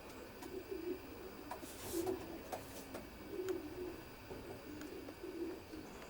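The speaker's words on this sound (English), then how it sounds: "And these are a few of Brian's old birds yet to be paired up" Racing pigeons coo softly inside a loft, with repeated low murmuring calls spaced every second or so, faint and fairly distant, over a quiet background.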